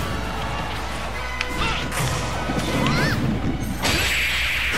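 Richter's upgraded whip strikes in Super Smash Bros. Ultimate amid busy fight noise, with crashing hits and swishes over a steady game soundtrack, ending in a loud impact near the end.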